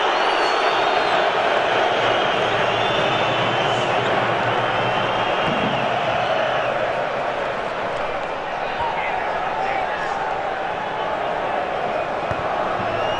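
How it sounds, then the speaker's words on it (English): A restless football crowd at an England vs Croatia Euro 2008 qualifier keeps up a steady, dense roar and murmur throughout, with a commentator's voice heard over it. "Crowd are getting restless now"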